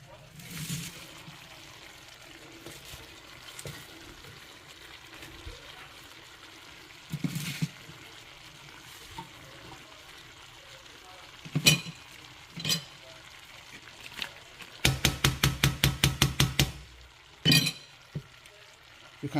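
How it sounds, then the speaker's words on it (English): Vegetables go into a simmering plantain porridge and are stirred, with faint bubbling and soft scraping, then a run of quick metallic clinks from a spoon against the pot, plus a few sharp single taps. "I'm going to go in with my vegetables."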